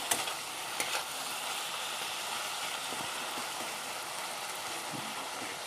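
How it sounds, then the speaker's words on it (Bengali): Ridge gourd frying in oil, a steady soft sizzling hiss with occasional light stirring clicks, fairly quiet and uninterrupted by speech. "ঝিঙ্গাটাকে ভেজে নেব"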